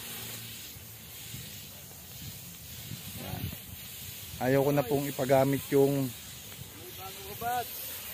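A power knapsack sprayer hisses steadily as it sprays Parker Neem onto calamansi trees, with a constant airy spray running underneath while a person speaks partway through.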